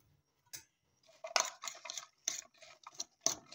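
Sliced, washed cauliflower stirred with egg in a bowl for an omelette, heard as a quick series of close clinks and scrapes of a utensil against the bowl in an otherwise quiet room.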